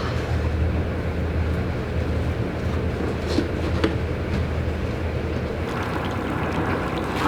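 Twin boat engines drone steadily and loudly without a break, with a deep low hum and faint watery noise around it.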